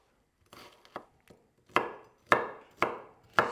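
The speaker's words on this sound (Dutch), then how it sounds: "Ui even een paar in grove stukken snijden." An onion is chopped into coarse pieces on a cutting board, two soft cuts followed by four louder, evenly spaced knife chops close up, with no talking.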